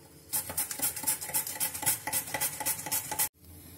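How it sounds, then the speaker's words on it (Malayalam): Elephant yam being sliced on a handheld slicer: a quick, even run of about a dozen crisp, scraping strokes close to the listener, ending abruptly, with no talk. "ഈ ചേന ഒന്ന് സ്ലൈസ് ചെയ്ത് എടുക്കാം"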